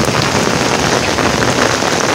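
Heavy rain pours onto an open-air, roofless hydroponic garden, a dense, loud, steady hiss of drops with no pauses and no voices.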